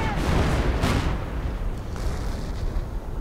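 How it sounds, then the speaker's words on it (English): Artillery barrages boom through a Company of Heroes battle, heavy explosions rumbling loud and continuous with dense noise, a large blast near the start and more impacts layered under the din. "More artillery getting called in."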